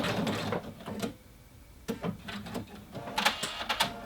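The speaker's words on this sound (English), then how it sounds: "just keep going until you connect up to your previous line of stitching, your original line of stitching, and reverse at the end to secure everything" A sewing machine stitches a jeans hem, running in short mechanical bursts with brief pauses between, close and fairly loud with no voices.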